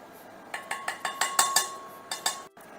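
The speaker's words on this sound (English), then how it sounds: "And we want to make sure we mix that together very, very well." A utensil clinks rhythmically against a bowl while Old Bay and hickory smoked seasonings are stirred together, a quick run of bright taps heard up close.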